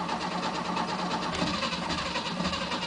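An old 1967 Mercedes engine during a cold start, cranking and rumbling steadily at close range with an uneven, rough mechanical drone and no voices.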